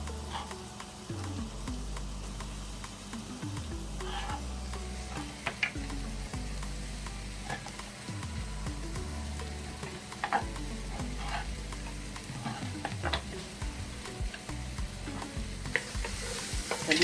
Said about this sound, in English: I'm gonna saute these for 2 minutes.